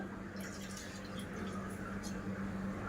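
Liquid milk pours steadily into roasted semolina in a pan, a continuous soft splashing trickle with faint dripping, fairly quiet and unbroken throughout.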